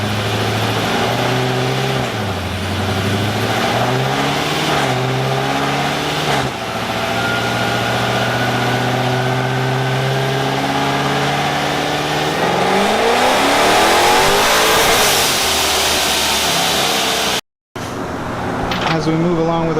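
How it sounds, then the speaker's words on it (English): Car engine revving hard after a pulley change, loud and close, with rising and falling pitch through repeated throttle sweeps and one long climbing rev before a brief cut-off. "we got the pulley changed on the car and I'll go ahead and make a rip right now"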